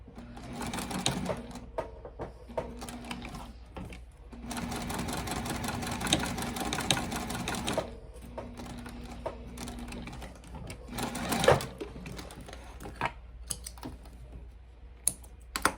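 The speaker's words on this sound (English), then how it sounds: "I'm going to start my stitching from this bottom edge" Stitching the interior card-slot panel of a leather bifold wallet, a sewing machine runs in a steady mechanical rattle with several start-stop pauses, one long continuous run and scattered clicks.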